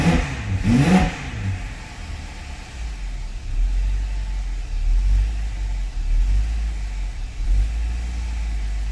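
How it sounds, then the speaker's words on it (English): A BMW F85 X5M engine, just fitted with new ignition coils, blips under throttle, with a short revving rise near the start settling into a steady low rumble. It is close and fairly loud, with no talk. "That's me giving it throttle."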